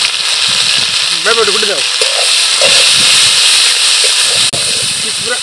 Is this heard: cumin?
yes